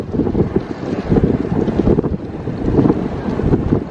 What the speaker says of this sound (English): it's quite hard work pushing against this wind.